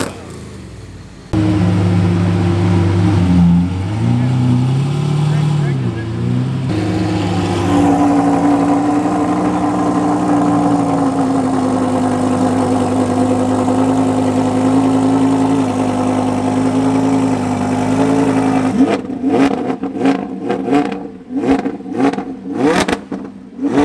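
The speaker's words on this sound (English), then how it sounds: "I need some American muscle revs here, brother." American muscle car engines at a supercar gathering rev loudly and close, a long sustained roar rising and holding, then a series of sharp throttle blips and crackles at the end.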